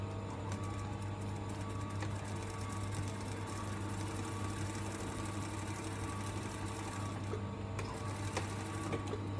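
A sewing machine runs steadily and close up for the whole stretch, stitching a seam with a 1 centimetre allowance on a pocket, back tacking at each end, its motor hum constant with a rapid mechanical chatter on top.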